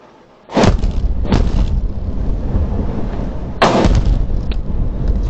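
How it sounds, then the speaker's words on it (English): Two Kalibr cruise missiles exploding in a town square near a former officer's house, recorded from a car dashcam: two loud, heavy booms about three seconds apart, each followed by a long rumbling roar. "This dashcam somehow captured the moment two caliber cruise missiles arrived at the square, targeting the former officer's house."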